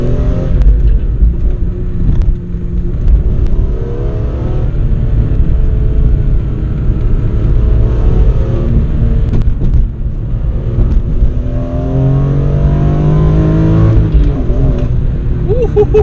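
A 195,000-mile BMW E46 M3 on the move, its engine droning and rising in revs under steady wind and road rumble, with a brief voice near the end.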